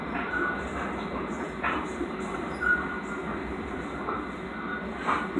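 A Long Island Rail Road train rolls slowly along, giving a steady interior rumble with faint periodic clacks and creaks, continuous and moderately loud with no talking.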